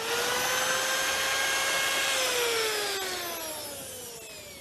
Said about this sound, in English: We've now drilled our holes to bolt our bracket to the Caravan's A-frame